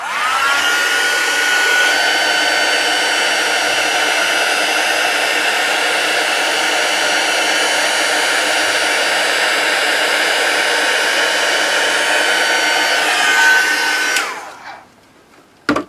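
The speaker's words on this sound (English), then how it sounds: "I'm just going to turn on my heat gun. and I'm going to heat set this" A heat gun blows steadily while heat setting embossing powder on a papercraft project, a loud, close, continuous whooshing hum that runs for about fourteen seconds before switching off and whirring down.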